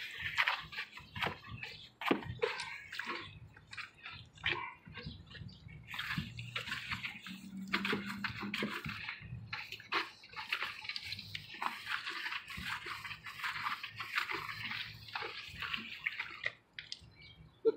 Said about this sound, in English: we're rinsing off all the milky crap, oxidization off the frame